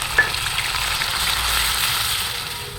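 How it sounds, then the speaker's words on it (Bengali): Nigella seeds, onion and chilli fry in hot oil, making a steady, fairly loud close sizzle with a light stir or clink at the start and no speech. "কালো জিরে ফড়ন পেঁয়াজ লঙ্কা ভেজে নেব হালকা করে"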